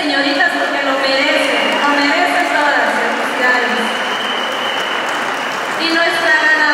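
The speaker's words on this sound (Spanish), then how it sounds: "un aplauso para las 7 señoritas porque lo merecen" An audience applauds steadily for seven young women at a princess pageant during a town fair in Barillas, Guatemala. Dense clapping lasts several seconds with a brief lull and swells again at the end.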